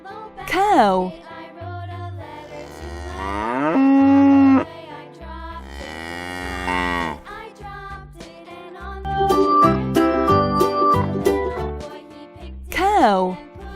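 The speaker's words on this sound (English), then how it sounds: "cow" Cows low in several long, drawn-out calls with pauses between, while a faint bell-like jingle tinkles in the middle.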